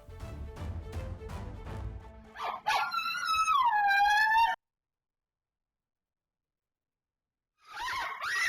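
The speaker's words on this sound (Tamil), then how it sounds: "தெருவில் விளையாடிக் கொண்டிருந்த குழந்தையை தெருநாய் துரத்தி கடிக்கும் அதிர்ச்சி காட்சிகள் வெளியாகியுள்ளது." A street dog chases and bites a child playing in a street. Loud, rapid dog barking and yelping gives way to a rising, whining howl, then a long silence before more yelps at the end.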